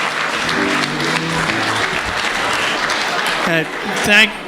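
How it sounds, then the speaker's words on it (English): Wedding reception guests applaud the father of the bride as he comes to the microphone, a sustained wash of clapping, then a voice speaks near the end. "Let's give him a round of applause, everyone."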